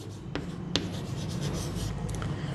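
A teacher writes a journal entry narration by hand, a soft, close scratching of pen or chalk in continuous strokes with a couple of sharp taps, heard alone without talk.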